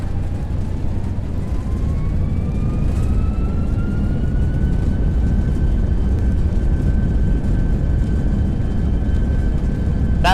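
An FSLabs A320 slowing on the runway after landing in Prepar3D, with a loud, steady engine roar in reverse thrust and a whine that gradually falls as the jet decelerates.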